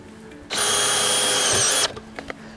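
A cordless drill drives a screw through a pre-punched hole in an anchor base into a pile, one loud steady high-pitched whine lasting just over a second, then stopping with a few faint clicks.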